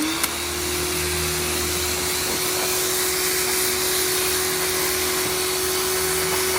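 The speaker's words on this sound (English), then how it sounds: "All right, time to pressure wash her down." A pressure washer sprays down a used engine that has soaked in DG oven cleaner, giving a loud, steady hiss of water over a constant motor hum for the whole stretch, with no talking.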